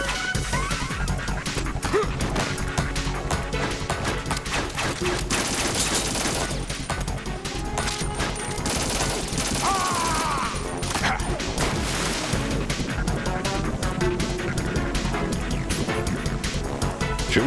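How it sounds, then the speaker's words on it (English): Grenade launcher blasts and explosions in Metal Gear Solid 2, a dense, continuous barrage of bangs and crashes running the whole time, loud and chaotic with game effects layered over it. "The grenade launcher."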